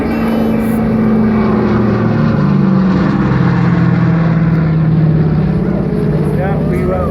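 Propeller aircraft flying past at the Welshpool Air Show, a loud sustained engine drone that shifts in pitch as it passes, with people talking nearby.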